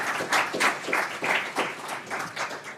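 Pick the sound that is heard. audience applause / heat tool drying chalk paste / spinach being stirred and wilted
audience applause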